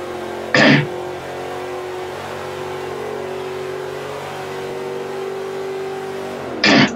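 Vintage American street muscle car engine in Forza Motorsport 5 holds a loud, steady high-revving drone, with two short throat-clearing bursts at the start and end.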